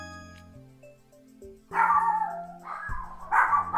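A pet dog indoors barks several times in quick, loud bursts, breaking over quiet electronic game music that plays alone at first.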